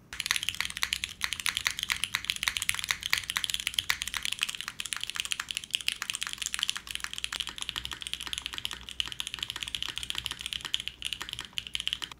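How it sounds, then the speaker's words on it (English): Dense, steady typing on three Kohaku mechanical keyboards, rapid clacky keystrokes close up with no pauses and no voices. "Here's all three of Quantum's keyboards."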